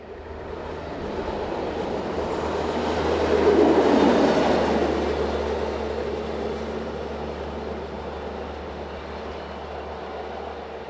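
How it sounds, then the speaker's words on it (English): A railway work unit rolls north past a station that once had a goods depot, a steady rumble and wheel noise building to a peak midway and then slowly fading, heard from trackside. "In between trains, this work unit scuttles north."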